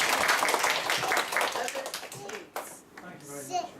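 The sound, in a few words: audience applause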